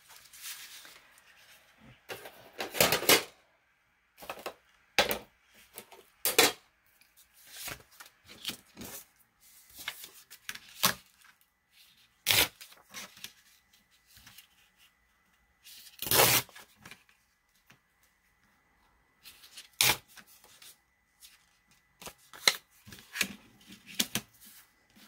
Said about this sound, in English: I am going to tear them up and